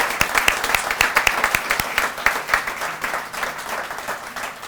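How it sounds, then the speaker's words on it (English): A small crowd at an outdoor planting day claps for new members, a sparse, steady patter of individual hand claps close by, continuing evenly throughout. "Let's give them all a round of applause,"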